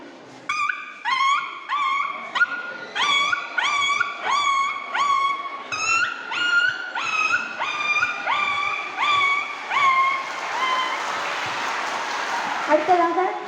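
A voice imitates a puppy barking, giving a long series of high, yelping yips in quick bursts, close and fairly loud, fading into a breathy noise near the end.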